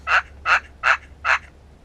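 A hand-operated turkey call imitating a lonesome feeding hen, heard as four evenly spaced, raspy yelping notes at a steady rhythm, close and fairly loud, with no talking.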